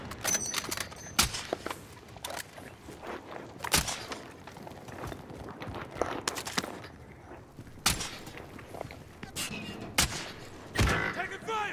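Scattered gunshots and bursts of gunfire in a Call of Duty: Modern Warfare match, sharp cracks spread irregularly across the scene over a low background of movement and distant combat noise.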